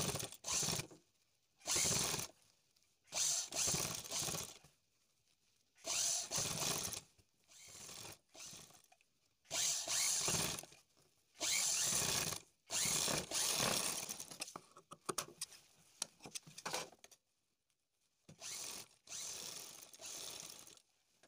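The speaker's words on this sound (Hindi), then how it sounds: "पहले हमें इधर की साइड सिलाई लगानी है।" A sewing machine stitches lace onto the neckline of a kurti in short, quiet bursts of rapid mechanical whirring, separated by silent pauses of a second or so.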